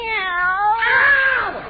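A kitten named Minerva gives a single long, close, drawn-out meow that rises and then falls away, loud and clear with no talking over it.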